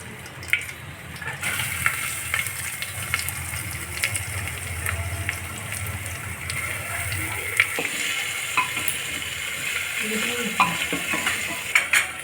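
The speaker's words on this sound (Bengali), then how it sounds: "ভিজিয়ে রাখা অরহরের ডালটা এখন এর মধ্যে দিয়ে দিব।" Soaked toor dal goes into a hot pan with curry leaves for South Indian sambar and is stirred, a continuous close sizzle with scattered metallic spoon clicks and scrapes, plus a faint voice late on.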